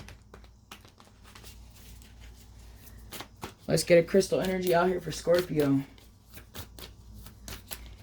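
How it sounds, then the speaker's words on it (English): Soft, rapid riffling of tarot cards being shuffled in short bursts, with a person speaking briefly in the middle. "I'll just do a couple of soft shuffles here."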